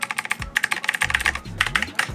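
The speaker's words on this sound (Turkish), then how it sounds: "klavyem Logitech'in mekanik klavyesi aynı zamanda yeni çıkarttığı bu kliki" Rapid clicky keystrokes on a Logitech mechanical keyboard at a desk, a dense, close, crisp stream of individual clicks with brief pauses.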